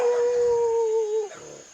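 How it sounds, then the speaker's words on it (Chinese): A single dog howls at a livestock farm in a remote mountain village. The long, steady, wavering cry holds for over a second, then drops off into quieter background noise. "好多小狗"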